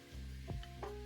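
Wine is poured into a hot pan of onions and garlic for a pot roast, set on a sauté setting, giving a brief, steady sizzle with a soft stir or splash partway through.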